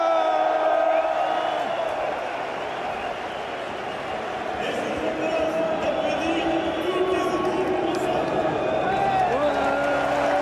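A stadium crowd at a World Cup ceremony applauds and cheers after a speech, a steady broad roar with whoops and whistles, talk running over it throughout.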